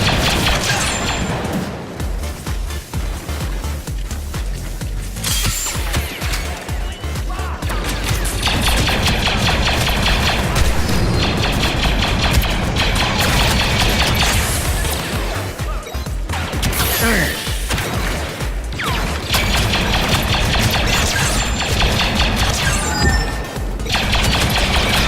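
Blaster fire in the Star Wars Battlefront II beta, with constant rapid laser shots, explosions and crashing battle noise running dense and loud throughout.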